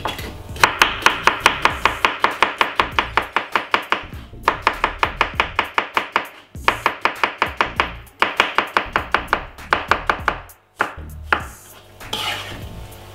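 Knife chopping cucumber on a cutting board while a chef makes a healthy salad, quick rhythmic bursts of sharp close taps broken by brief pauses, no talking.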